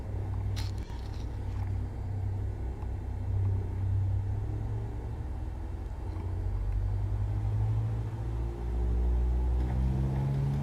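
An aircraft engine at full throttle in Microsoft Flight Simulator 2020 gives a steady, heavy drone with deep rumble and tonal hum that rises slightly in pitch toward the end.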